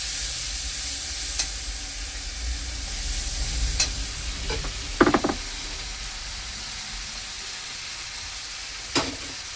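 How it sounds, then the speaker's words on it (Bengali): Masala of green chilli, ginger, cumin paste, salt and turmeric sautéing in a pan, with a steady close sizzle and a few sharp clinks of a spoon stirring against the pan. "মশলাটা আমি কষাবো"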